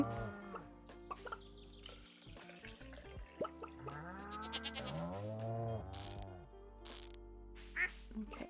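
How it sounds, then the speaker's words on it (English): Chickens clucking on a farm in the video game Stardew Valley, layered with bird-like calls over soft game music with no talk. "we're gonna check on the chickens, see if they laid some eggs."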